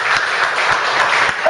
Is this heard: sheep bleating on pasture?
no